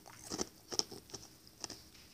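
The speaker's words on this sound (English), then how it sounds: "I can hear you crunching. What is that?" A person crunching and chewing fried chicken, a quick run of sharp, crisp bites close to the mic, fairly faint, with no talk.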